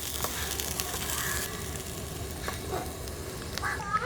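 A horse gram dish is stirred in a pan, producing a constant close frying sizzle with intermittent scraping and clinking strokes of the spoon, and no talking.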